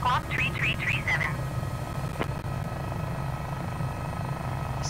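An AS350 helicopter engine in Microsoft Flight Simulator drones steadily as a loud, continuous low hum, with a short burst of radio chatter near the start.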